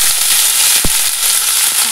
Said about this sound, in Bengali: এবারে বিনস আলুটা ভাজা করে নিয়ে রিয়াকে গোছ করে দিয়ে আমি চলে যাবো স্নানে।